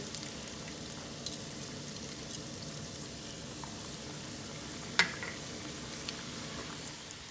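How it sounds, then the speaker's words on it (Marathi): Beef mince patties frying in hot oil, a soft, even crackling sizzle running throughout at low level, with one brief sharp clink partway through. "गरम तेल जालें तें हांव आतां पॅटीस घालता।"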